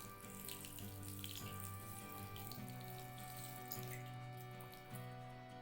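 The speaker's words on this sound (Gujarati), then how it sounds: "ખાંડ ડૂબે એટલું આપણે પાણી ઉમેરીશું" Water pours steadily into a wok of sugar for an adadiya pak syrup, a continuous close splashing stream with a shifting pitch as the level rises, running the whole time with no talk.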